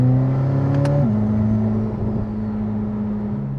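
A Corvette ZR1 engine revs hard from inside the cabin, with a loud steady drone that shifts pitch abruptly as a gear changes, then holds.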